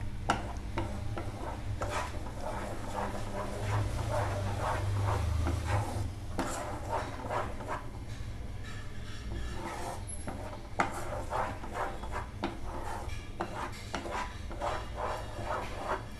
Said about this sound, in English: When we stir it, our spatula should touch the bottom of the pan so that the mango pulp may not stick to the bottom of the pan